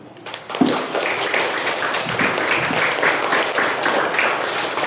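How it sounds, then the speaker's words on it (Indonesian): A crowd at a school report-card and farewell ceremony breaks into sustained applause after a brief pause, with many hands clapping steadily and fairly loudly until the end. "Tepuk tangan dong."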